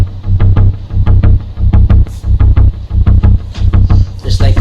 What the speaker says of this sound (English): Also, for the verses, we actually used a synth bass.